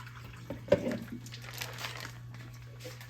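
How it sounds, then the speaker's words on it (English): Pork chop brine is poured out into a kitchen sink, giving a brief splash and gurgle over a low steady hum, faint and quickly fading to quiet. "Let me pour this brine out in the sink."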